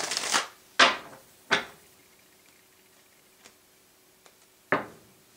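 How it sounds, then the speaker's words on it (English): Tarot cards shuffled by hand in a few quick, separate riffles, each a short crisp burst, followed by faint taps and one final shuffle near the end, close and quiet. "2 more shuffles"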